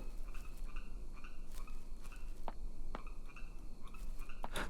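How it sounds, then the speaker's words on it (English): Frog croaking from the horror video game Detention comes through as repeated raspy croaks over a steady low ambient hum, with occasional sharper clicks, and sounds moderately distant and layered. "The sound effects for the frogs sound so realistic."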